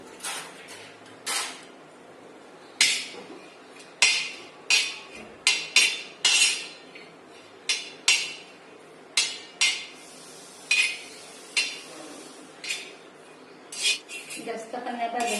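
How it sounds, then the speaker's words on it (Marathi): Grated coconut roasting in a pan, stirred with a metal spoon that clinks and knocks against the pan in a string of sharp, close strokes over a quiet background. "थोडंसं खोबरं जे आहे ते लालसर करून घेऊया"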